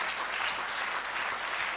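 Audience applause at a second-anniversary celebration, a steady dense clapping from a crowd that fills the whole short stretch without breaks.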